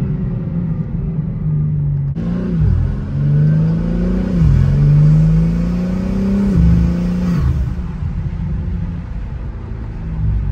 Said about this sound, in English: Dude, the blow off is so sick. It's so loud.